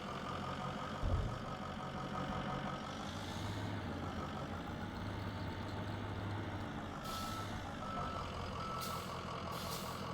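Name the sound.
snow plow truck engine running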